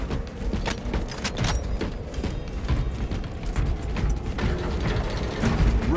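Weapon reload in Warhammer 40K: Space Marine 2: a dense run of mechanical clicks, ratcheting and metallic clacks, fairly close and steady over a rumbling battle backdrop, with no talking.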